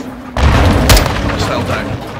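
Grenade blasts in Call of Duty Modern Warfare 2 on Veteran difficulty: a loud booming burst hits about a third of a second in, with a sharp peak near the one-second mark and a rumbling, noisy battle din continuing under voices.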